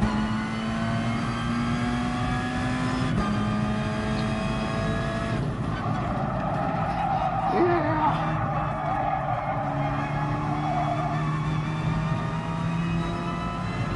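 Race car engines in Gran Turismo Sport drone steadily throughout, with harmonic engine tones shifting as gears change, and a voice talking over them at times.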